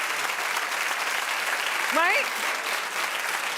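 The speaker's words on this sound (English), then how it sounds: "I see you, and you're clapping along, right?" Studio audience on a daytime talk show clapping along steadily, a continuous wash of many hands under a host's voice, with a brief spoken question near the middle.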